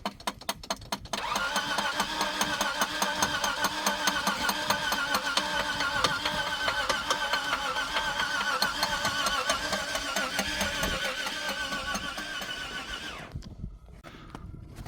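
An off-road car stuck on a snowy mountain road has its engine cranked at length without firing, the starter churning in a fast, even rhythm for about twelve seconds before it cuts off.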